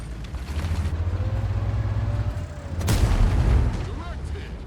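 A tank cannon shot lands in World of Tanks with a heavy boom and rumbling impact, followed by low engine drone and a second burst of noise near the end.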